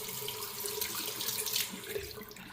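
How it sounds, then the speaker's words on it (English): Warm water runs from a tap fed by a recirculation pump, a soft, steady splashing flow into a sink, close and fairly quiet. "And there you go, warm water."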